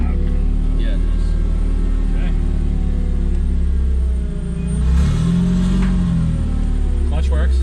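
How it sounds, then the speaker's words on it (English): A Porsche 996 with a swapped Honda K-series engine idles with a steady low rumble and a loud, whining power steering, close up, while people talk over it throughout. "The power steering is loud."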